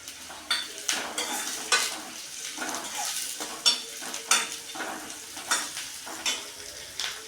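Mint, coriander leaves and raisins fry in a pan for masala rice, a soft sizzle broken by regular stirring scrapes and light utensil clinks against the pot, close and moderately quiet.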